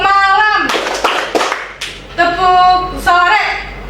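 A class of children claps in short bursts during a call-and-response clapping game, a few sharp rounds of clapping breaking up a sustained voice, close and fairly loud.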